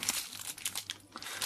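Packaging crinkles and crunches as a parcel from China holding SMD capacitors is opened with small scissors, giving close, irregular rustles and tearing bursts with no speech.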